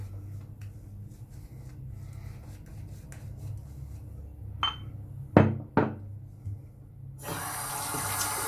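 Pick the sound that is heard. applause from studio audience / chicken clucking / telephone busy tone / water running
water running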